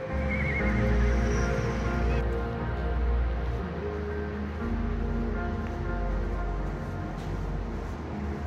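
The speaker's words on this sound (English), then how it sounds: "you can hear a real horse neigh in the background" A horse neighs and whinnies loudly several times, its long wavering call rising over a steady low rumble of background noise.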